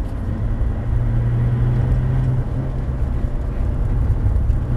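A Porsche GT3 RS accelerates on a wet race circuit at Abbeville, its engine a steady, loud low rumble filling the cabin for the whole stretch with no break in tone.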